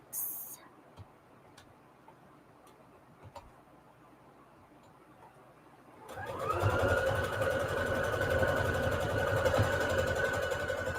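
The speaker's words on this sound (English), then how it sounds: "And I'm just using a straight stitch here." A sewing machine straight-stitches around Peltex fabric stiffener for a soft fabric journal cover. After a quiet stretch with faint handling clicks, the machine starts up and runs in a steady, close, continuous whirring hum to the end.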